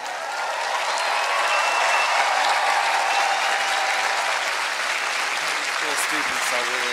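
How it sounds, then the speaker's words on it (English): Loud, sustained applause and cheering from a large crowd of students at a Harvard ceremony honoring Chancellor Merkel, a steady roar of clapping that carries on for several seconds. "The students are really cheering for Chancellor Merkel."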